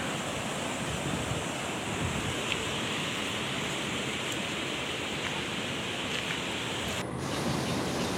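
A flash flood surges down the Cijolang river, a dense, steady roar of rushing water that fills the whole stretch without pause, with some wind noise on the microphone.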